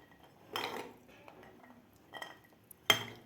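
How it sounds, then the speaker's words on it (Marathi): Peeled almonds tipped into a small mixer jar, a few scattered hard clinks and rattles against the jar, separated by quiet pauses and ending in one sharper knock. "ते एक मी मिक्सरचं भांडं घेतलेलं आहे छोटं. यामध्ये आपल्याला हे बदाम घालून घ्यायचे आहेत."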